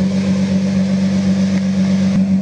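A Lamborghini Murcielago's V12 engine idles smoothly and steadily up close, a deep even hum with a low throbbing rhythm and no voices.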